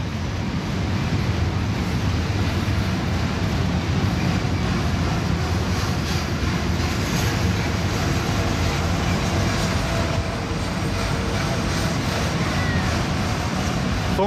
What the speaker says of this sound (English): they run some long trains on Horseshoe Curve